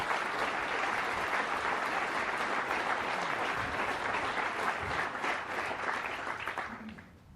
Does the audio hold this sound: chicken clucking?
no